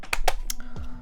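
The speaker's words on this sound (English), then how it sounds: "turn it on and do like a typing test" Quick typing on an HHKB mechanical keyboard during a modding build: a short burst of a few sharp, close key clacks in uneven rhythm, clearly audible with no talking.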